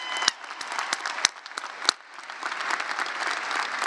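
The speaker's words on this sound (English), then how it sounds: "So let's give Angel another round of applause." Audience at a John Jay College commencement ceremony applauding a graduate, a steady clatter of many hands with a few sharper claps standing out, fairly distant and filling the hall throughout.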